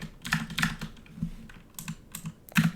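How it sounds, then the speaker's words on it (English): Rapid bursts of mechanical keyboard typing during a Dungeon Crawl Stone Soup game, clicky keystrokes arriving in irregular clusters at close range, fairly quiet and with no talk over them. "Keyboard tapping is relentless."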